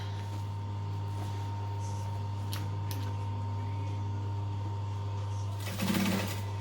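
Sewing machine stitching at a 3 3/4 stitch length an eighth of an inch from the edge of a fabric bag, a steady close mechanical hum and whir running throughout, ending in a brief louder burst.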